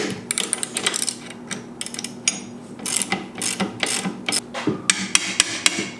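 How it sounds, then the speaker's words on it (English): Sharp metallic hammer blows ring out against a fabricated Mustang 9-inch rear axle, coming in irregular bursts of quick strikes with brief pauses, close and loud, with no one talking. "Wrench hammer."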